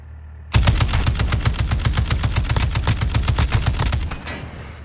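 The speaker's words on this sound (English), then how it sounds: "You are taking effective fire." Sustained machine-gun burst in a video game firefight, a fast, loud, evenly spaced string of shots lasting about four seconds before tapering off.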